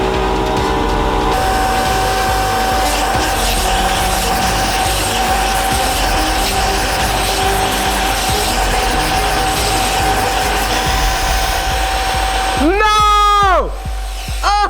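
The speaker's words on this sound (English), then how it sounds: "And the compressor just went off." A workshop air compressor runs loud and steady in a knife-making shop, a dense mechanical drone with rattling that fills the clip, cutting off near the end as a voice rises in sharp exclamations.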